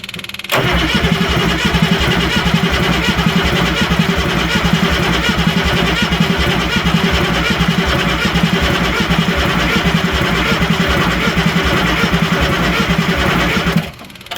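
An International 7.3L IDI diesel that sat in a field for decades cranks briefly, then catches and runs loud and rough with a steady, chattering diesel clatter for about thirteen seconds before shutting off abruptly.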